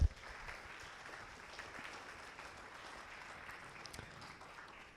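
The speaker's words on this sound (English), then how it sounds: "please, if you could give a round of applause for the sponsors" Audience clapping for sponsors at a usability conference opening, a soft, even patter of applause from a modest crowd, heard at a distance and fairly quiet throughout.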